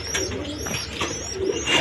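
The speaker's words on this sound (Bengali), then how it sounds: "হাই কোয়ালিটি রেশার কবুতর এইগুলা।" Ringed pigeons of a high-quality racing breed coo softly in repeated low, throaty phrases close by, with light chirps mixed in and no talking.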